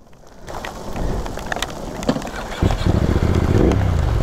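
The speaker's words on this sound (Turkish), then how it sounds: "Oy güzel yağdı ha." Heavy rain and hail pound down in a storm during a CF Moto 450 SR motorcycle ride near Ankara. A dense patter and spatter builds, then turns into a louder, steady roar partway through.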